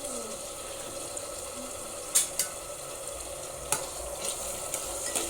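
Tomato and ginger-garlic paste frying in a pan for matar paneer: soft continuous sizzle under stirring, with a few sharp clinks of a spoon against the pan.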